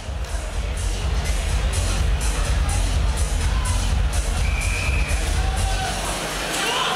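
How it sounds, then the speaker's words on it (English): Crowd of fans from Blackburn cheering on Tarro Grogan before an FCC 14 middleweight title fight against Igor Puskarskis, a loud, sustained roar of cheering and hubbub with scattered shouts and bangs throughout. "A lot of fans cheering him on."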